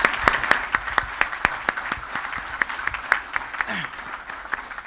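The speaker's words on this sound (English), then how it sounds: "And I just think they need a round of applause as well." Applause from an audience at a board of governors meeting, sparse, distinct claps spread across the room, fairly close and steady throughout.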